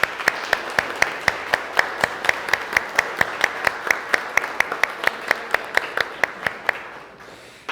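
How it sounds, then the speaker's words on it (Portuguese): Church congregation at a World Day of Prayer service clapping in a steady, even beat, one clap roughly every quarter second, moderately loud and sustained until a sudden stop near the end. "E uma salva de palmas"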